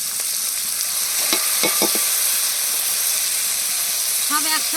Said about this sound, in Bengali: লবণ হলুদ দিয়ে দেবো চিংড়ি মাছগুলো দিয়ে দেবো